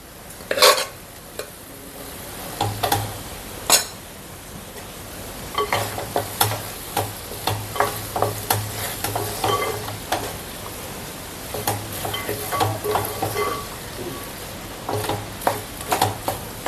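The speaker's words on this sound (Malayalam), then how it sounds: "കുറേശ്ശെ ചോറിട്ട് വേണം ഇളക്കിയെടുക്കാൻ" Cooked rice being stirred into tamarind gravy in a pan, with repeated scraping and tapping of a spoon against the metal and a soft sizzle throughout, loud and close with no talking.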